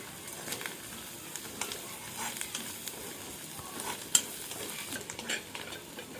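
Onions fry with tender tamarind leaves in a pan, a soft continuous sizzle broken by light spatula scrapes and one sharp tap, fairly faint and close.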